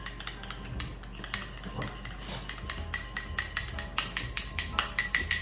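A spoon stirs Kirschwasser into a mixture in a bowl, giving quick, rhythmic metallic clinks and scrapes at close range with no talk.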